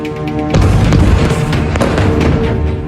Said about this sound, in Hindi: कुछ सेकंड बाद होता है इससे भी कई गुना बड़ा धमाका